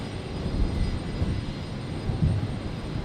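Qantas jet airliner in retro kangaroo livery at Brisbane airport in the evening, a steady distant roar of jet engines with faint low rumbles, continuous and without talk.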